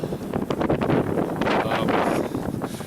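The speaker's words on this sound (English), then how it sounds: "it's a cold when it's already -10 and then you get a wind like this" Cold winter wind at about -10 degrees, buffeting the microphone in a steady, loud rushing roar with no voices.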